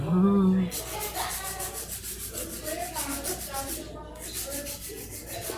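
A rapid rhythmic buzzing scrape, like a small electric file working against a nail, pausing briefly mid-way before resuming, close and fairly loud.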